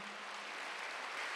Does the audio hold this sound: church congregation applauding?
yes